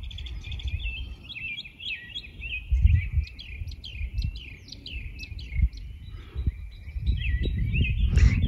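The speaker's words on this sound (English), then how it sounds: "Have y'all ever heard a mockingbird?" A mockingbird sings a long run of varied chirps and whistled phrases at a moderate distance, with low wind rumble beneath and no talking.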